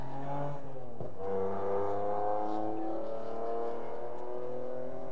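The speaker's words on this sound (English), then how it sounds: "those cars, especially the motorcycles" Cars and motorcycles passing outside a church building on a Sunday evening, a droning engine rumble rising and shifting in pitch, heard from a distance through the walls.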